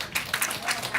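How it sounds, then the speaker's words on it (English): An audience at a panel event on restaurants, farms and climate gives a brief burst of applause, a dense, moderately loud patter of many hands. "Round of applause, please."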